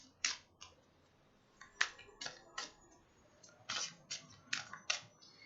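Oracle cards are handled and shuffled close up, a series of crisp, quiet slapping and flicking clicks in irregular bursts over a faint background.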